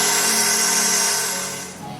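Cocoa powder and melted butter being whisked for a vegan brownie batter with a machine whisk, a loud steady whirring whine that drops and fades toward the end.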